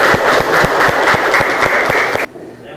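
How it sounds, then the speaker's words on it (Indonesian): A classroom of students claps for the best group, a brisk burst of close, loud applause with rhythmic beats that stops abruptly after about two seconds. "Tepuk tangan."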